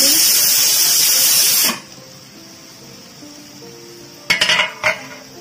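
Loud steady sizzle of frying carrots cuts off as a metal lid goes onto the pan, followed by a couple of sharp close clinks of lid and cookware.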